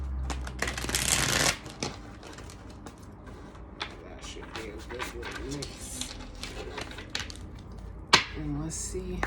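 Tarot cards shuffled close by: a loud riffling burst at first, then softer steady flicking and sliding of cards, with a person talking over part of it.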